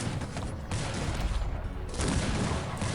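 Massed musket and cannon fire crackles in a Cossacks 3 battle, a dense, loud, continuous fusillade of overlapping shots with heavy low booms.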